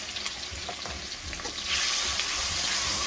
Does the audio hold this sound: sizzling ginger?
yes